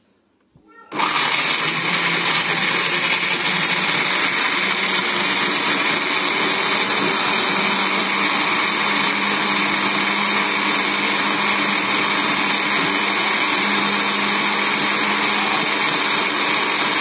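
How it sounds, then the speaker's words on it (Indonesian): Kitchen blender starts abruptly and whirs at a steady high pitch, grinding a chili spice paste with a little water, loud, constant and alone for about sixteen seconds. "Untuk bumbunya ini saya blender ya, karena banyak cabenya jadi nanti capek kalau nggak di blender"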